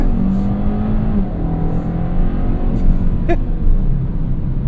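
A 2025 Kia K5 GT accelerating hard in traffic, a loud steady engine drone rising under load with a brief sharp tire chirp about three seconds in.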